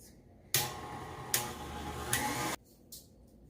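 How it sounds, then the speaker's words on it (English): An electric mixer's whisk whips cream with a little added sugar, a loud, steady whirring burst of about two seconds that cuts off abruptly into near silence. "get our whisk back down in here and let it whisk for another couple minutes"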